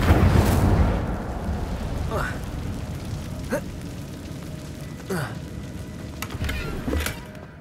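Hogwarts Legacy's Incendio fire spell erupts in a loud whooshing blast of flame that quickly fades into crackling rumble, followed by a few softer magical whooshes and game effects.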